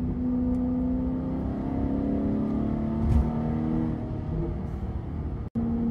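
Alfa Romeo 8C Competizione engine revving high, a loud sustained mechanical roar rising and holding near the car, ending with a sharp cut and quick return.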